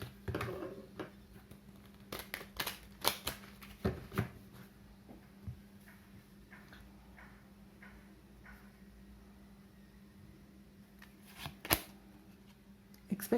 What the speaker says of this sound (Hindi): One more shuffle.